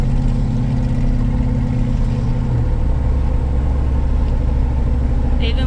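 A 2011 Chevy Silverado truck fitted with aggressive tires rolls down the road, with a steady low engine and road drone heard from inside the cab. The hum runs continuously and fairly loud through the whole stretch.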